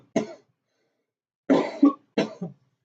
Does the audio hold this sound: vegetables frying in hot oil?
no